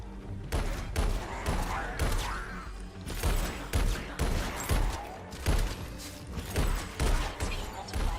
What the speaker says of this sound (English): Plasma shotgun.